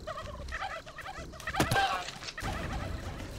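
Repeated rapid warbling gobbles from a turkey in the video game How to Survive 2, mixed into game noise, with a brief sharp burst partway through.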